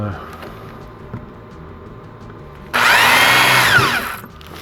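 A power drill bores into a recycled tin can, a loud, steady high-pitched whine with a metallic grinding edge that starts abruptly partway through and runs for well over a second before cutting off, after quieter room sound.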